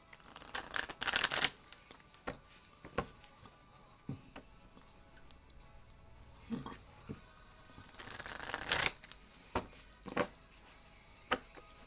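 Tarot cards being shuffled in bursts of crisp riffling and soft slaps, two longer flurries with scattered taps between, close and fairly quiet with no talking.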